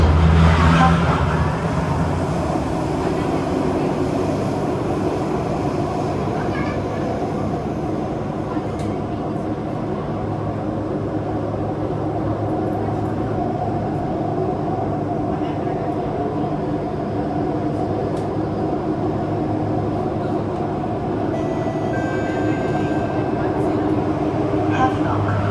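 A KHI and CRRC CT251 metro train runs with flat wheels, giving a steady, loud rolling rumble with a continuous rhythmic pounding from the wheels throughout, while an onboard announcement plays over it.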